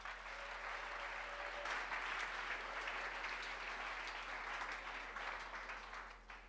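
A church congregation applauds steadily at a French-language service, a dense, sustained wash of clapping that holds evenly throughout and tapers slightly at the end.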